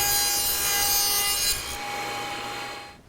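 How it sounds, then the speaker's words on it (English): A table saw fitted with a 1/4 inch dado set cuts a dado groove in plywood, a loud steady whine and rasp that runs alone and then drops off as the cut ends. "Now the first dado is cut"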